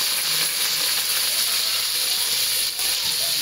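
Onions and green chillies frying in a pan, a loud steady sizzling hiss with faint crackles, continuous and close, without speech.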